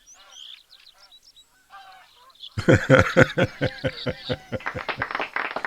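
Geese honking inside the video game Fantasy Blacksmith: faint scattered calls at first, then a loud, close flurry of repeated honks in rapid, overlapping bursts filling the second half.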